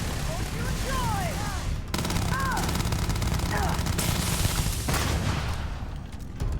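Gunfire in the video game Starfield, rapid sustained bursts of shots roaring continuously in a dense fusillade, loud and close, with no pauses.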